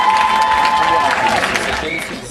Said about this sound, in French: On applaudit Zara s'il vous plaît.